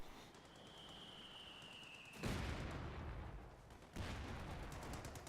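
Off-map smoke barrage artillery in a World War II strategy game lands as two heavy, booming impacts a couple of seconds apart, each trailing a rumbling decay over faint background noise.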